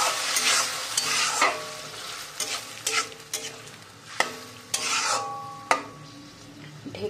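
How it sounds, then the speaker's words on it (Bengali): Spice paste with a splash of water is stir-fried in a pan, with repeated scraping stirring strokes over a wet sizzle and a few sharper clacks of the utensil against the pan. "মশলাটাকে কষিয়ে নেব।"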